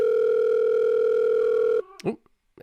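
A steady electronic telephone ringing tone hums for almost two seconds, then cuts off as a voice begins speaking.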